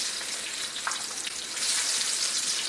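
Garlic and onion fry in hot oil with a steady, bright crackling sizzle that grows slightly louder toward the end.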